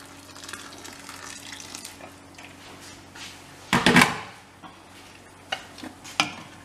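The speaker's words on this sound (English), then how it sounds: "So that was boiling water that I've added in." Boiling water poured into a pan of simmering home-cooked curry, giving a brief, loud splash and sizzle of about half a second in an otherwise quiet kitchen, followed by a few soft clinks.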